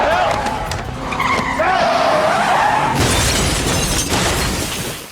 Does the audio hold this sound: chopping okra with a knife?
no